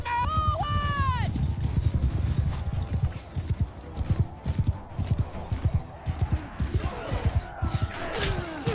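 Cavalry horses galloping during a battle in the video game Bannerlord, a dense run of hoofbeats thudding close and loud, opening with a horse's whinny and overlaid with battle clamor and shouting.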